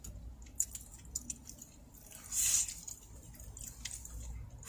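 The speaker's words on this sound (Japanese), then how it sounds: "牛焼肉恵方巻きを食べてみましょう。" Someone eats a beef yakiniku ehomaki sushi roll inside a Honda N-BOX car, with quiet, close, moist chewing and squishing bites and a brief louder crinkly rustle midway.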